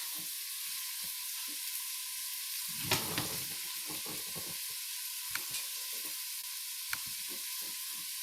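Celery, carrot and collard greens sizzle in a pan with a steady, bright hiss. Soft stirring clicks and scrapes come and go beneath it.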